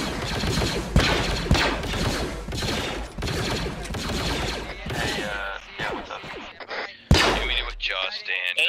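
Suppressive gunfire in an Arma 3 Star Wars milsim game: steady, rapid bursts of shots hammering close and loud, then thinning into scattered shots while radio-style voices talk over them.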